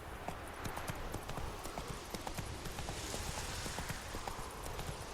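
Roach the horse clip-clops steadily through The Witcher 3, hooves striking in an even trotting rhythm at moderate distance, continuous throughout with no voices.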